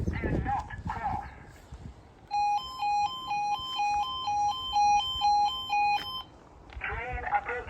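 Two E2S level crossing alarms at a railway crossing in the Antrim area sound a loud, repeating two-tone warble, alternating high and low in a steady rhythm for several seconds, with a spoken warning voice before and after it.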